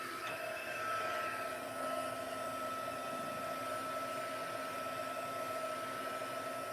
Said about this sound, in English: I'm going to use Stampin' Up's heat tool, and I'm going to use it on the high heat so it'll dry it faster.